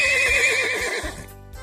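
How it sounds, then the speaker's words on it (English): A single horse gives a clear, close whinny with a wavering, quavering pitch, fading out toward the end. "A horse lives in a stable."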